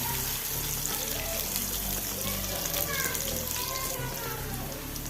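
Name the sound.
stirring bitter gourd curry in a pan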